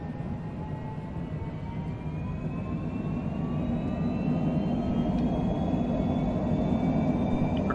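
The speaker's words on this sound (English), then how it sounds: "Now the parking brake is disengaged, we'll just increase the throttle" A simulated aircraft engine in Microsoft Flight Simulator throttles up as the parking brake is released, a steady roar that slowly grows louder while a tone climbs in pitch.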